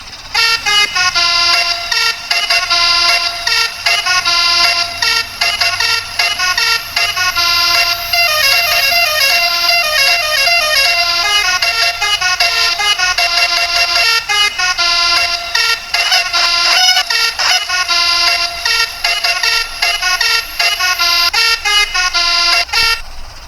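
A toy mini car plays a loud, continuous telolet horn melody, a rapid string of bright musical tones that runs without a break the whole time, with no speech over it.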